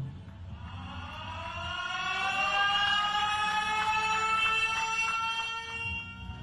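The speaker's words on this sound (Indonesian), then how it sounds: "Bunyi sirine menandai diresmikannya pabrik anoda baterai lithium-ion di Kendal Rabu siang." A siren rises and wails steadily over a low background rumble, holding its tone for several seconds before easing off, marking the opening of a lithium-ion battery anode factory in Kendal, Indonesia.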